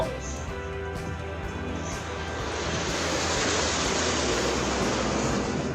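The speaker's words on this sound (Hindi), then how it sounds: "आकाशर छाती चिरी उड़ुथला लढ़ुआ विमान।" Military fighter jets, including Rafale, Sukhoi and Tejas aircraft, roar overhead in an Air Force Day flypast, a loud continuous broadband rush that swells and sustains across several seconds.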